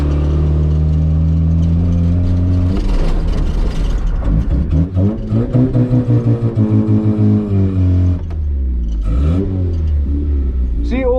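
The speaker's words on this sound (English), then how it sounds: "Almost choked it out trying to power it out of that slide." A Toyota KE70 Corolla with a welded diff powering out of a slide in third gear, the engine loud and close, revving and bogging with rising and falling pitch and a stuttering, near-choking stretch before it pulls again.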